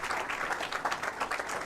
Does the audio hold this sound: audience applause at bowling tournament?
yes